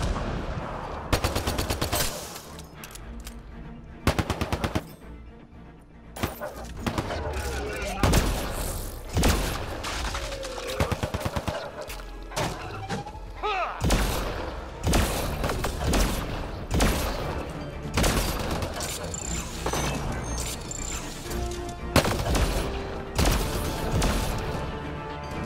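Loud, nearly nonstop gunfire crackles in rapid bursts in Mass Effect: Andromeda, including turret fire, broken by heavy booming explosions, with a voice now and then under the barrage.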